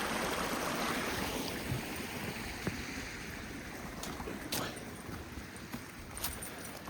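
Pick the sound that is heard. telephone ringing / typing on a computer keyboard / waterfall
waterfall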